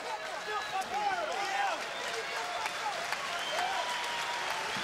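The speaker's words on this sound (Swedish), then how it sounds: "Ja, han får applåder." Arena audience applauding a boxer after a professional bout, steady moderate clapping heard under a commentator's continuous talk.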